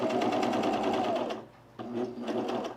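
A sewing machine runs steadily while stitching a pin tuck sleeveless top, stops briefly, then starts again for a second close, even burst.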